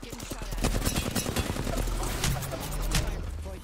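Gunfire in a video game where players ride ziplines: a quick run of sharp shots in the first second, then scattered bursts over steady background noise, fairly loud throughout.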